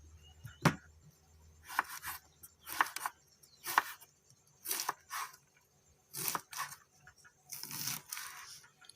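A knife slices banana blossom on a cutting board while an Isan-style pork belly dish is prepared; around eight soft, crisp chopping bursts come in uneven bunches, quiet and close, with no talking.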